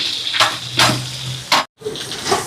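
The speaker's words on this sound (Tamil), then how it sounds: "இப்போ வெங்காயமெல்லாம் நல்லா வதங்குது பாருங்க." Onions and green chillies sautéing in hot oil in a pan for chicken biryani, a close sizzle broken by a few louder stirring scrapes and a brief gap.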